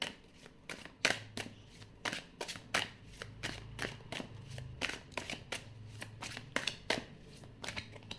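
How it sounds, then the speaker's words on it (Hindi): Tarot cards handled and drawn from a deck: a quick run of crisp, close riffling and snapping card sounds, repeated in bursts with no talk. "अब इस डेक से हम कार्ड्स निकालेंगे।"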